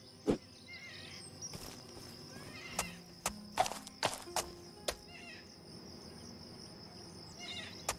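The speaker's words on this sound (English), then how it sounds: "I messed up the horse. It's gonna be running sideways." A horse runs in the video game The Anointed, with a soft, steady clip-clop of hooves and an occasional whinny over a faint background of chirping crickets.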